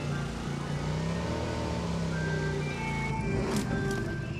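A car drives in a shooter video game, its engine droning steadily and shifting pitch as it moves, with game music tones layered over the continuous motor noise.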